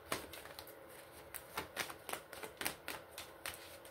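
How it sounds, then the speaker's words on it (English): A deck of tarot cards is shuffled in quick, uneven bursts of crisp riffling and slapping, close and fairly quiet, with no talking. "can I get one more card from this deck"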